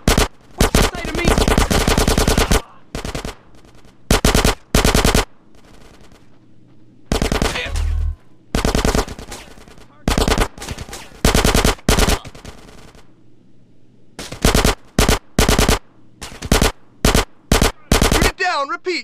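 Machine gun fire in GTA San Andreas: loud, sharp bursts of automatic gunfire in repeated volleys separated by short pauses, with faint game voices between them.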